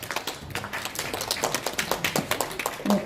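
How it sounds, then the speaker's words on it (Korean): An audience at a women's rights seminar claps to welcome a lawyer to the stage, a steady patter of many hands applauding alone for about three seconds. "박수로 환영해 주십시오."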